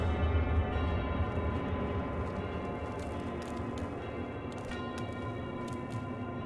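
Church bells ringing in the video game Fallout London, a steady sustained tolling that hangs over a dense, continuous background wash at moderate level, with no speech over it.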